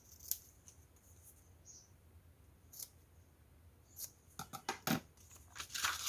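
Scissors trimming the corners of a folded paper envelope, a few isolated snips early on, then a quicker cluster of crisp cuts and paper rustles toward the end, close and quiet.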